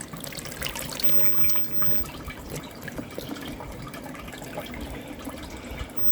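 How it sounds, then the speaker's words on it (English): Water pours steadily out of a pond pump motor, a continuous splashing, gurgling flow heard close up with no talking. "I'm going to unclip this and see if you can see how much water is coming out the motor."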